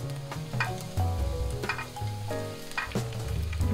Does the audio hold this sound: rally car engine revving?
no